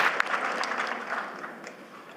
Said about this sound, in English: that was not a large applause